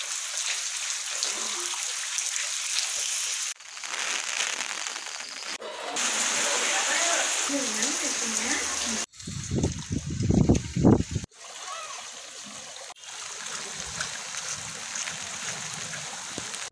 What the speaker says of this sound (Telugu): ఎడతెరిపిలేని వర్షం కురుస్తోంది. దీంతో సమీపంలోని కాలువలు పొంగి ప్రవహిస్తున్నాయి